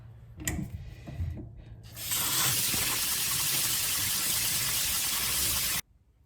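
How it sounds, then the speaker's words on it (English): Cold water runs from a kitchen tap over strained orzo pasta in a sink, a loud, steady hissing stream that starts after some brief splashes and clatter and cuts off abruptly near the end. "we're going to cool it down with cold water"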